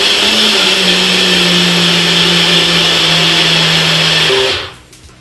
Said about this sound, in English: this is where you're blending everything up